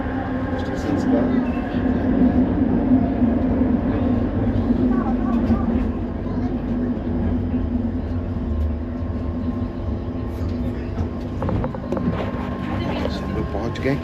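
A Kuala Lumpur metro train rumbles steadily as it pulls into KL Sentral station, its low, continuous hum and rattle running throughout beneath a person talking.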